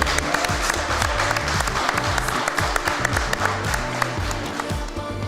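Crowd applause at a video installation competition event in Copenhagen, steady dense clapping filling the room with bursts of cheering over a low rhythmic music bed, no talk.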